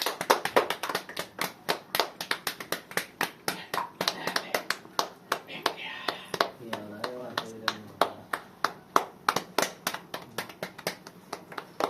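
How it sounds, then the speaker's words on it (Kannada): Loud hand clapping at a small home celebration, a fast run of sharp close claps with a few pauses, while people talk over it. "ಇನ್ನು ಚಪ್ಪಾಳೆ ಕೊಟ್ಟ ಜೋರಾಗಿ"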